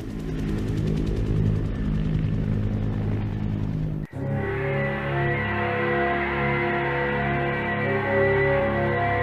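Helicopters flown by American pilots during the Vietnam War, a steady loud rotor and engine drone with dense low harmonic rumble that cuts abruptly midway and resumes with a different steady tone, no voices.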